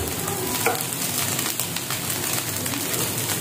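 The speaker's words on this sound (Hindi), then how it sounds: "इसको हाई फ्लेम पर ही हमने बनाना है और अच्छी तरह से इसको मिक्स करना है।" Egg fried rice is stir-fried on high flame, giving a steady loud sizzle with scraping of the spatula against the pan and a short clank early on, close and continuous.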